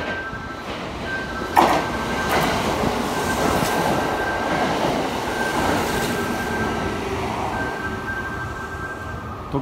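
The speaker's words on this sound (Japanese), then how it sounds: "特急通過しましたね" A limited express train rushes through a Kyoto-line station, a sustained loud roar of wheels on rails with clattering bursts and a steady high whine, close by and with no talking.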